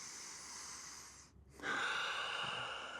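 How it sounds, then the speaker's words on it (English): A yoga practitioner breathes deeply during a flow: a long, soft airy exhale fades into a brief pause, then a fuller, louder inhale rushes in close to the microphone, with no speech. "Breathe."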